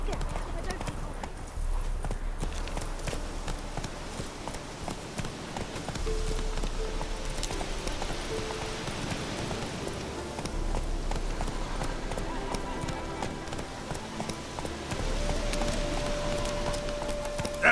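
Hoofbeats of Geralt's horse Roach galloping in The Witcher 3: Heart of Stone, a rapid, continuous clip-clop rhythm up close, running under voices talking and game music.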